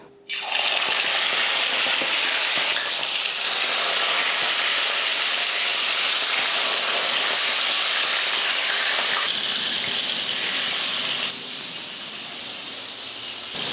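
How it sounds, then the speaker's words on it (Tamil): Marinated chicken pieces frying in hot oil in a kadai, giving a loud, steady sizzling hiss that fills the whole clip, easing slightly near the end with no talking. "இப்போ எண்ணெயில் போட்டு பொரிச்சு எடுத்துக்கலாம்."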